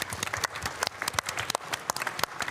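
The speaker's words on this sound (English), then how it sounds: "A round of applause once again for Harold Valson, Koke Lopez, Kanata Kawakami for Team Lexus" Applause for Team Lexus drivers at the GT World Series 2024 World Finals Manufacturers Cup grand final, heard as scattered, uneven claps from a small audience, moderately close and fairly quiet.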